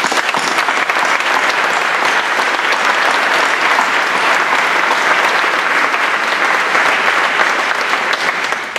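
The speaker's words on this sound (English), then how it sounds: "A round of applause to the award winners." Loud, sustained applause from a large audience honoring award winners at the opening plenary of an impact assessment conference, dense steady clapping filling the hall throughout with no speech.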